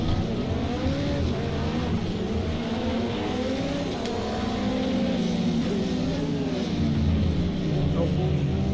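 Porsche race car in a racing video game, its engine revving and shifting through gears with rising and falling pitch, close and steady throughout, with someone talking over it at times.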